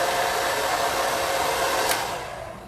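A handheld hair dryer blows steadily up close while bangs are styled over a round brush, a continuous broadband whoosh that eases off slightly near the end.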